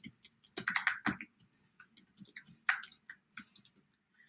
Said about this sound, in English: And once I start typing,